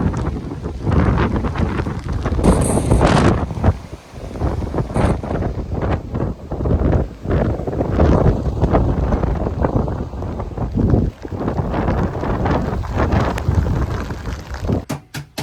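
Strong gusty wind buffets the microphone continuously aboard a moored narrowboat on the Llangollen Canal in winter, a loud roaring rush with knocks and rattles, no talking.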